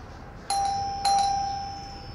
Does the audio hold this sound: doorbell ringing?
yes